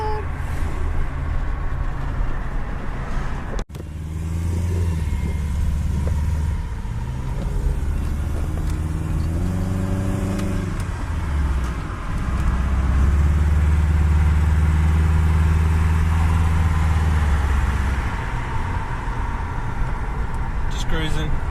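A VTEC-equipped car engine hums and drones from inside the cabin while driving in traffic near lights, its tone rising and settling through gear changes, with someone talking over the steady engine note.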